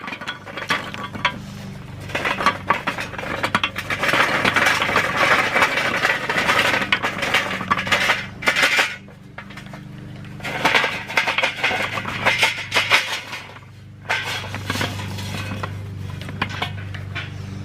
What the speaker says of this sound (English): we're going to go ahead and fill up the rest of the slow and sear with unlit coals